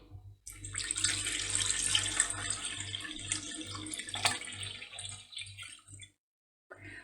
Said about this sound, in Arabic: وغادي ندير الماء